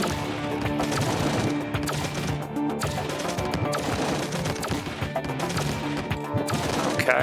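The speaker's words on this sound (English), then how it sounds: "We'll go Photon Blaster." Rapid bursts of Photon Blaster fire in the game DEFCON: Xenos crackle in dense volleys over a busy game soundscape, repeating steadily without pause.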